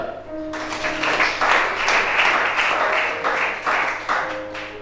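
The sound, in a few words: audience applause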